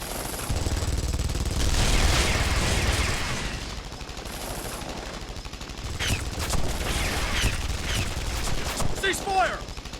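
Soldiers opening fire in a Guilty Gear Strive story cinematic, sustained rattling bursts of automatic gunfire with sharp cracks, loud and close, mixed with shouting voices.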